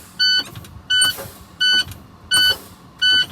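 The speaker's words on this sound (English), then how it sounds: "Now I can fan my brakes." Air brakes on a Class A truck fanned during an in-cab air brake check: five short, evenly spaced bursts of air release, each carrying a bright tonal whine, close and loud with no talking.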